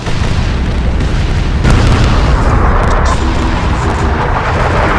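A bombing run in a Warhammer 40,000: Dawn of War II cutscene sets off loud, continuous explosions, a dense rolling roar of booms and blasts that stays heavy throughout without clear pauses.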